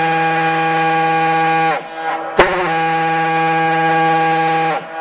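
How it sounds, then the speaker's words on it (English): A diaphone siren sounds in long, loud, harmonic blasts: one steady tone, a short break with a sharp burst, then a second sustained blast that ends abruptly. "Number 7. Diaphone Siren."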